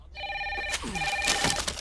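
A telephone rings at a general store, its electronic ring sounding in a short burst at moderate volume over a faint background hum.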